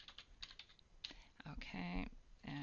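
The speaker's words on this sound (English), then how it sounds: "you'll type in here" Keys clatter on a computer keyboard in a short, quiet burst of typing, with a faint voice-like tone near the end.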